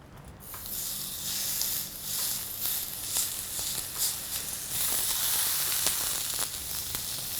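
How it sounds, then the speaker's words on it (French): Creole-style steaks sizzling in a frying pan, a continuous soft hiss of frying that swells slightly partway through, with faint crackles and no talking. "Et on les met ensuite à la poêle."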